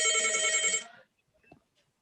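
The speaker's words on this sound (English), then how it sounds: "Dr. Anil, could you stop your phone?" A mobile phone ringtone sounds during an online conference session, a loud electronic ring that cuts off after under a second, leaving near silence with a faint small noise.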